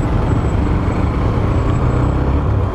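Road traffic passes continuously, forming a dense, steady rumble of engines and tyres with no distinct single vehicle standing out.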